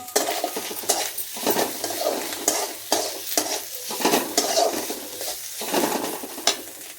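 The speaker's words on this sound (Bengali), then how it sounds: "দেখো একটু ভাজা ভাজা হয়ে এসছে" Spices sizzle in hot oil while a utensil scrapes and stirs the pan in repeated strokes, close and fairly loud, with no talking.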